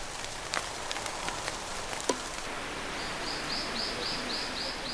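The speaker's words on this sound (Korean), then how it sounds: "담뿍 젖어 더 싱싱해진 대숲의 풍경을 빗소리가 그려줍니다." Rain falls on a bamboo forest at Hadong, on the southern slopes of Jirisan, as a quiet, steady patter and hiss. A few sharp drips stand out, and faint repeated bird chirps come in toward the end.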